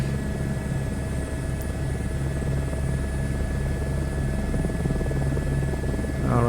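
A helicopter flying in Microsoft Flight Simulator 2024 gives a steady droning rotor and engine hum with a constant whine, continuous and even in level, with no voices over it.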